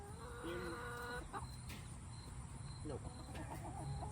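Chickens clucking in a crowded coop, a steady chorus of close, overlapping clucks and squawks, with a person briefly speaking.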